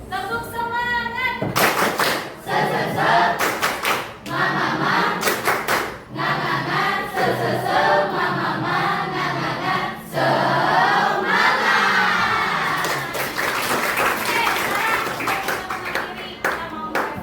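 Classroom students clap the rhythmic 'tepuk semangat' clapping game together, bursts of loud group claps in a patterned rhythm with brief pauses, mixed with crowd noise and some voices.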